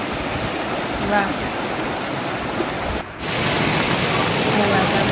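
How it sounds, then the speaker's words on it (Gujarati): Rainwater pouring down over the rocks at Girnar in Junagadh during heavy rain, a steady loud broadband rush that carries on without a break apart from a momentary dip, with a voice briefly exclaiming over it. "આ તો તમે જો કેવું આમ જો પથ્થરમાંથી પાણી આવી ગયું છે"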